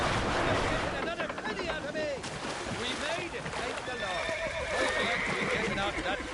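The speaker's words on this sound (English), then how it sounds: "Oh, these horses look fresher." Horses in the video game Red Dead Redemption give several loud, shrill neighs and whinnies over clip-clopping hooves, with a voice talking over them.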